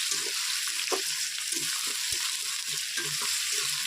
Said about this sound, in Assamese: এতিয়া প্ৰথমে দিম আলুখিনি অকণমান লৰাই দিওঁ।